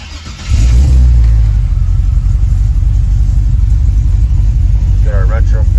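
A 1970 Pro Touring Chevelle with an LSX V8 fires up and settles into a loud, deep, steady rumbling idle that fills the clip, with a brief higher sound near the end.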